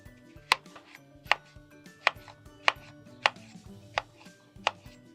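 Knife chopping melon into small pieces on a cutting board, seven sharp evenly spaced chops in a steady rhythm, close and clear with no talking.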